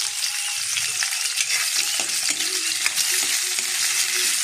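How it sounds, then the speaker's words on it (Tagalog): Garlic, onion and tomato sauté in hot oil in a pan, a steady loud sizzle and crackle with occasional stirring scrapes, no voices. "Tapos, sinabay ko na po yung ating sibuyas at kamatis."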